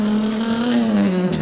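A voice imitating a truck engine and stick-shift gear changes, a buzzing hum whose pitch rises and then slides down like a shift, loud and close, with no other sound.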